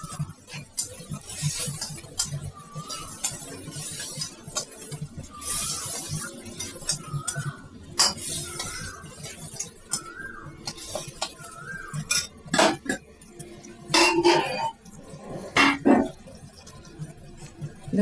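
A spoon scrapes and clinks in a kadai while cinnamon pieces are sautéed for Bengali ghugni, with irregular close metallic knocks throughout, a louder cluster near the end, and faint repeated chirps in the background.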